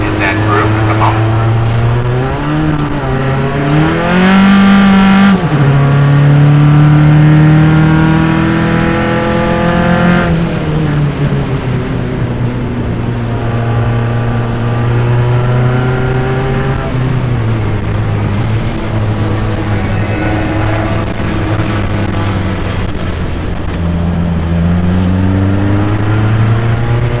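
Single-seater race cars lap the Mid-Ohio circuit in an autumn club race, their engines a loud, continuous drone that rises and falls through gear changes while a commentator talks over it.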